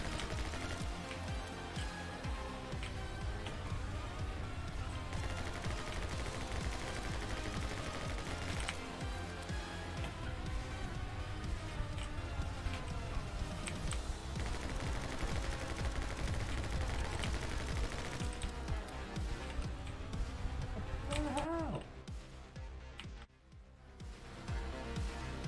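Continuous gunfire from the video game My Friend Pedro, rapid repeated shots mixed with game music and effects, dense and steady before fading out near the end.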